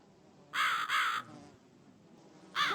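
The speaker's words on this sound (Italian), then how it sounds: "Noi seguiamo il corvo" A crow cawing in the video game The Cat Lady: two harsh caws close together, then a third after a pause, loud and near over a faint low background.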